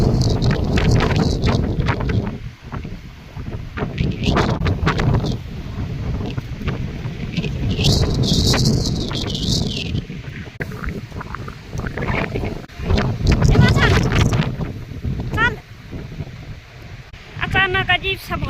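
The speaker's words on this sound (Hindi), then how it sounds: "इतनी तेज हवा हो रही है और साथ में बारिश की बूंदाबांदी।" Strong gusty wind batters the microphone outdoors in the hills before a storm, roaring and buffeting loudly throughout while people talk.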